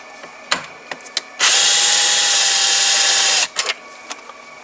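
A power screwdriver backs T25 screws out of Tesla Model S interior trim. One sustained close whir runs about two seconds, set between short clicks and taps.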